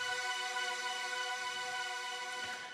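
A bright, sustained high synth pad built from three sawtooth oscillators, holding a steady chord alone and fading slightly at the end.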